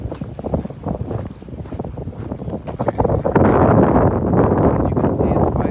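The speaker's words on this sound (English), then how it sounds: "As you can see, it's quite windy." Strong wind gusting along a seashore during a walk, a steady rushing roar that swells and thickens into heavy, close microphone buffeting partway through, with no talk.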